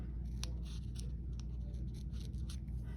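Scissors trimming, a quick series of small crisp snips repeating in an irregular rhythm, close and fairly quiet over a steady low background hum.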